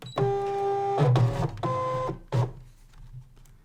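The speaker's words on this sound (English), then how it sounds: "I'm going to load the mat into the printer." A Brother ScanNCut cutting machine loads its cutting mat, giving several close motor whirs with tonal hum, each lasting about half a second to a second and separated by short clicks and pauses.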